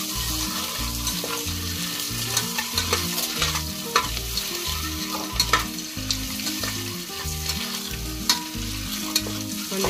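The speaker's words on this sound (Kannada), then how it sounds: "ಒಂದೆರಡು ನಿಮಿಷ ಫ್ರೈ ಮಾಡಿದ್ರೆ ಸಾಕು." Boiled eggs fry in a pan with a loud, continuous sizzle and close, rhythmic stirring and scraping clatter throughout. No one speaks.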